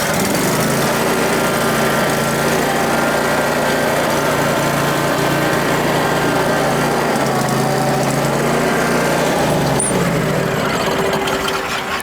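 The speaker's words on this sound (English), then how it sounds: "I'll get the mower out real quick" A John Deere Quick Track 52-inch lawn mower engine runs steadily and loudly up close, a constant droning hum with a slight shift in pitch near the end and no talking.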